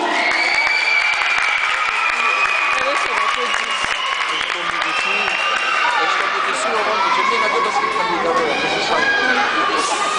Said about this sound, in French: Nous vous demandons d'applaudir Elena Bergeroux.